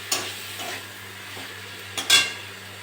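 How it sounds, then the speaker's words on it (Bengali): Potatoes tossed into spice masala in a pan, stirred and fried in short scraping bursts with a soft sizzle beneath, quiet and close. "এবার আলুগুলো দিয়ে দেবো, দিয়ে ভালো করে কষে দেবো।"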